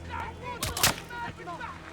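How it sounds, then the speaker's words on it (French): A couple of sharp gunshot cracks punch through a busy Call of Duty Modern Warfare soundscape on a highway, with voices talking around them. "Les coups de feu venaient de l'autoroute!"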